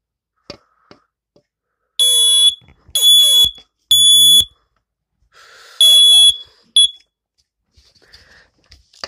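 A BRK FG 200 smoke alarm sounds with its cover open, giving several loud, piercing, shrill blasts in bursts of varying length, then a short chirp, with brief handling clicks in the quiet gaps.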